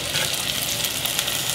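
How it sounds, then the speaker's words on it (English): Ginger, garlic, dried shrimp and shiitake mushroom stir-fry in hot oil, giving a loud, close, continuous sizzle with a steady crackle and no voices. "Give them a quick stir."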